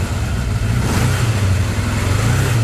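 A Kawasaki KZ550 motorcycle engine idles and runs steadily nearby, a constant low throbbing rumble with a slight rise in revs partway through.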